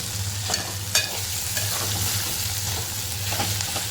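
Vegetables being stirred and sautéed in a hot pan, a steady close sizzle and frying hiss with spoon scrapes and clinks, no talking.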